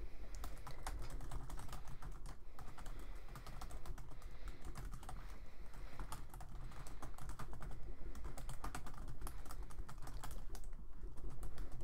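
Steady, fast typing on a computer keyboard while writing a Pinterest post description, a dense run of close, crisp key clicks that continues without pause for about twelve seconds.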